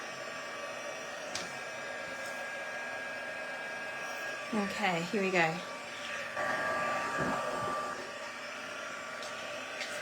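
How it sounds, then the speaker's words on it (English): A handheld heat tool blows hot air in a steady whir from start to finish, close and fairly loud, while a voice speaks briefly midway. "So I'm just going to grab my heat tool."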